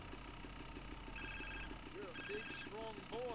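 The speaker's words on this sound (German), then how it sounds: "Telefon." Telephone ringing in GTA San Andreas, a repeated electronic double ring in two short bursts, heard over game sounds and chirpy background effects.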